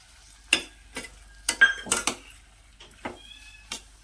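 Peas tipped into a pan of mixed vegetables frying for a Bhogi mixed vegetable dish, then stirred: several sharp scraping and clattering strokes of a spoon against the pan with brief gaps, close and fairly loud, over a faint sizzle.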